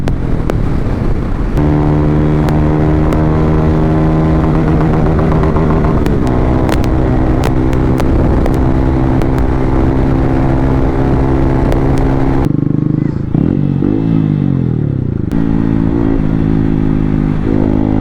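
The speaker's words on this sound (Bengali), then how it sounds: "বাইকে ভাই অত টান নেই, কিন্তু ভাই যা এক্সজস্টে যা ভাই আওয়াজ" A Bajaj Pulsar N160 motorcycle fitted with a loud exhaust, its engine note rising and falling through revs and gear changes, close and loud for the whole stretch with a sharp dip and recovery near the end.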